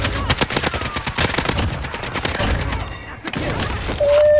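Rapid automatic gunfire from a shooter video game rattles loudly and close in dense bursts, with a brief pause before shooting resumes.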